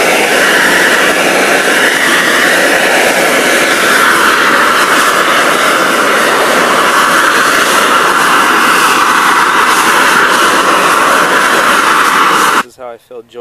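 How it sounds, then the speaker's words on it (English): A handheld propane torch drying damp cracks in an outdoor concrete patio during resurfacing gives a loud, close, steady roaring hiss that holds for about twelve seconds, then cuts off abruptly. "when I want to dry cracks up real quick, I use a propane torch like this."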